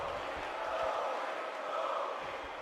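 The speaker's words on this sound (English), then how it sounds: "You just hear the crowd, they're on the side of Kofi" Arena crowd in a WWE 2K wrestling match, cheering for Kofi Kingston as a steady, dense roar that swells slightly and fades a little, with no voices standing out.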